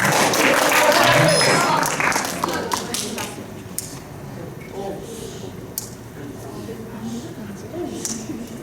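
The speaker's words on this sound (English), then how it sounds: "Should we give Jerome just a little round of applause as they get started?" Audience at a school house science quiz giving a short round of applause that starts loud and fades within a couple of seconds, followed by quieter room noise and scattered taps.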